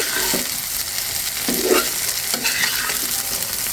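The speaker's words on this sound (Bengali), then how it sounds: "তাই পেঁয়াজটা আমি হালকা করে খুব সুন্দর করে ভেজে নেব।" Sliced onions being stirred and fried in a pan: a steady loud sizzle with repeated scraping strokes of the spatula every second or so, no voices.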